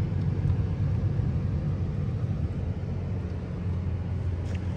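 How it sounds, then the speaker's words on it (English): Blower motor running inside a 1997 Toyota Mark II Grande GX100, a steady low rumbling fan whoosh that stays even and continuous throughout, with no talking. "Blower motor, yep."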